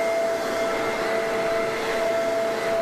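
A vacuum cleaner runs steadily and close, giving a constant whining motor drone with a broad airy rush and a held tonal hum, unbroken for the whole stretch.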